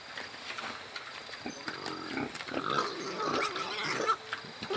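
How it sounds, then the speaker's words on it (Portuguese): Pigs grunting and squealing close by on a farm while squabbling over an ear of corn, rough noisy calls rising in a continuous run. "Porco bonito, gente, ó."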